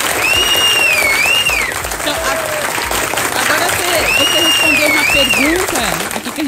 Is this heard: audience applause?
yes